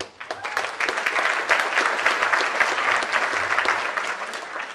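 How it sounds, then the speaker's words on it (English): An audience at the Mr Olympia 2014 press conference claps in a sustained, close round of applause that stays full and steady for several seconds. "a round of applause."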